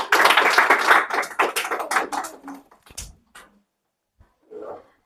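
An audience applauds for a speaker at a practice speaking session: a dense burst of clapping that thins out and fades after about two and a half seconds, followed by a few scattered taps and a faint murmur.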